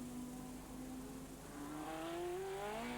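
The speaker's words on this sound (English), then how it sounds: "then it's straightening the car up and blasting down the straight" A club race car in a Scottish sports clubman championship blasts down the straight, its engine note climbing steadily as it accelerates. The sound is fairly distant and quiet under a broad wash of background noise.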